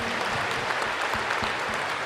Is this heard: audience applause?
yes